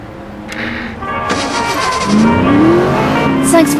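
A car driving in The Saboteur, a game set in wartime Paris: a steady, loud engine drone that rises in pitch as it accelerates, with a faint tire squeal near the end.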